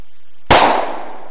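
A single sharp .45 ACP pistol shot firing a 185-grain Remington Golden Saber round at a squash, a loud close crack with a short decaying tail, no talk.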